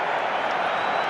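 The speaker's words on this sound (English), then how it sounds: "You can hear the crowd, TJ. They're starting to fire up." A rugby test match stadium crowd, England versus New Zealand, rises in a dense, continuous roar of cheering and noise, loud and distant-sounding as one broad wash.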